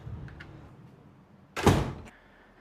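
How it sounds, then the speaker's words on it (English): A door being unlocked and opened indoors, heard as one loud, close thunk of the door moving, with faint clicks from the lock just before it in a quiet room. "So let's unlock this door and go back inside."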